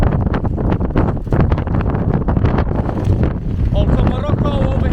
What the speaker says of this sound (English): It's the windiest town I think I've ever been to